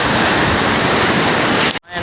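Waterfall at Droneshwar in full monsoon flow, a loud, dense, unbroken roar of rushing water heard close up, cutting off abruptly just before the end.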